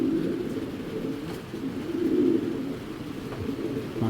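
Racing pigeons in a loft coo in rolling low, throaty murmurs, close and continuous, rising and falling in waves with no voices.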